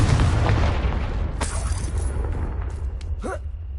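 A Confringo fire-blast spell explodes in a Harry Potter video game, a loud booming burst up front that settles into a rumbling tail with brief crackles afterward.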